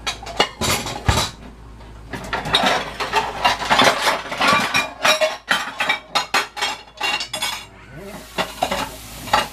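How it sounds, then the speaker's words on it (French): A frying pan is pulled out in a home kitchen, with pots, dishes and cutlery clanking and clinking in rapid irregular bursts, close and busy, over a faint sizzle. "c'est le temps de sortir notre poêle."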